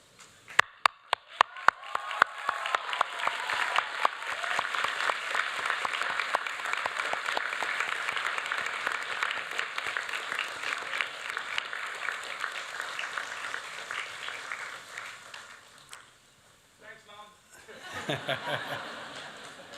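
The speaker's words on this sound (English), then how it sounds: "give them an equally rousing round of applause because they too have earned it" Graduates at a university graduation ceremony applaud their family and friends. A few scattered claps swell into sustained, rousing applause with some chuckles mixed in, then fade out before a short renewed burst of clapping.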